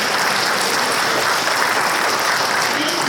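A roomful of people applauds together at a city council candidates runoff forum, dense continuous clapping that stays loud and even for the whole stretch.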